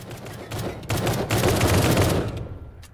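Rapid gunfire rattles against an armored Humvee in the Roblox game Anomic, a dense fusillade of overlapping shots that builds in the middle and fades out, fairly close with no talk.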